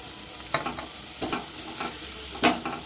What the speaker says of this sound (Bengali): পেঁয়াজটা হালকা ভাজা হয়ে গেছে, এবার আমি দিয়ে দিচ্ছি রসুন কুচি।